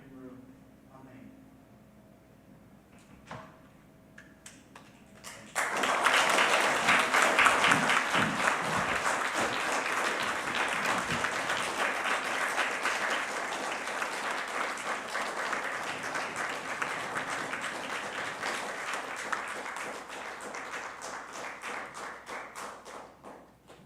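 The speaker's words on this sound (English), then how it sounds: "One more round of applause for Eric, for Bo, for Ben, for" Sustained audience applause at a university writing program anniversary event, bursting in loud after quieter sounds and continuing steadily for many seconds before easing slightly.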